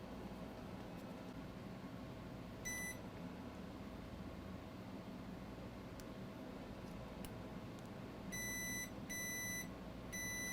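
Multimeter beeping in diode mode while probing an iPad Pro 9.7 logic board with no power, a short high-pitched beep followed later by three quick beeps over a quiet background hum.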